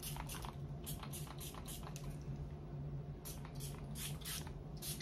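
Bath & Body Works Hot Cocoa and Cream fragrance mist hisses from a pump bottle in about ten short sprays in two quick runs, close and fairly quiet over a low hum.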